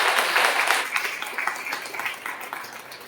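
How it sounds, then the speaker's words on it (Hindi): An audience at a Christian women's empowerment workshop gives a steady round of clapping for the speakers, dense and moderately loud at first, then thinning slightly, with no talking over it. "सारे स्पीकर्स के लिए एक बार जोरदार तालियों का धन्यवाद देते हैं"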